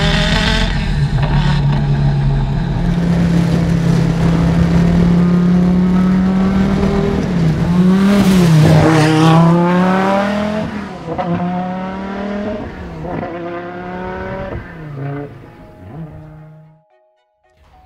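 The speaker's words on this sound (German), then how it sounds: "fahre einen der spektakulärsten Rennwagen, die es jemals gab, einen Audi Quattro S1" An Audi Sport Quattro S1 E2 Group B rally car replica roars close by, its engine climbing through sharp rising gear pulls with crackles and revs before fading off into the distance.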